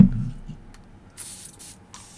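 A short hiss of aerosol spray sounds in two quick bursts, the first longer, following a brief low thump.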